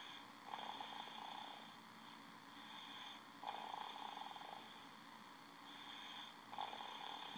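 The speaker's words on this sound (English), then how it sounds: "just snoring away." A 14-month-old boy snores while lying sideways in his crib, with soft, quiet snores repeating about every three seconds in a steady rhythm.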